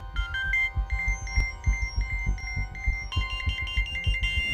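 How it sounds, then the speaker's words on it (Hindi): A phone ringtone repeats as a melodic electronic tune, fairly loud and steady throughout, over low background rumble with no talk. "फोन बज रहा है।"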